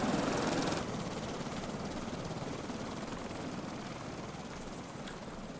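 A gyrocopter engine in the Stranded Deep survival game drones with a steady rotor whir, a louder burst at first then cutting to a lower sustained hum that carries on without speech.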